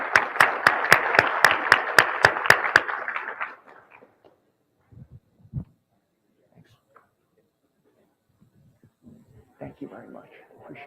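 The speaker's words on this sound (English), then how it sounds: "I just want to give a round of applause to our panelists" An audience applauds panelists at a workforce collaborative event, a burst of clapping that fades after about three seconds into near silence with faint movement, then quiet talk toward the end.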